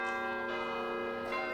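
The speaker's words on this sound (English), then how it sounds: "The church bells rang out Sunday morning in 5 Points." Church bells ring out on a Sunday morning in the Five Points neighborhood of Birmingham, two clear, sustained strikes with rich lingering overtones, loud and alone.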